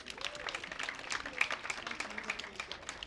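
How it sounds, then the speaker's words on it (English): Half-marathon runners applauding themselves at an outdoor gathering, a soft, continuous patter of many hands clapping for about three seconds, faint and somewhat distant, with brief murmuring voices underneath. "Please give yourself a round of applause."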